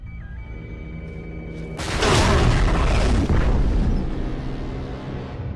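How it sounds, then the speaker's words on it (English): Tunnel detonation in Bioshock 2: Minerva's Den: a quiet mechanical hum gives way to a single loud, booming explosion with a long rumbling tail that slowly fades over several seconds. "Detonate the tunnel!"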